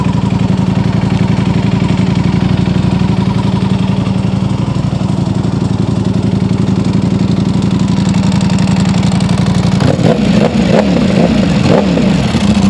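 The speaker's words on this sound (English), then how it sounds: "Alright, I'll quit revving your bike." A 2026 Aprilia RSV4 Factory motorcycle engine idles with a steady low rumble, then is revved in several sharp bursts toward the end, loud and close.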